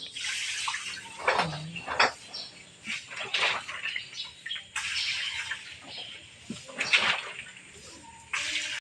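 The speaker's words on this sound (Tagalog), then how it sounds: "Nilagyan po niya ng tubig para daw po madaling lumamig." Water is poured over ice in a container while food is being prepared on the eve of a provincial wedding. The pouring comes as quiet, intermittent splashing bursts, with a faint voice now and then.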